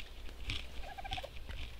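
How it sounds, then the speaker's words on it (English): A dodo squawking in the video game ARK, a series of quick gobbling, chattering calls, moderately loud over a low background hum. "This bird is vicious."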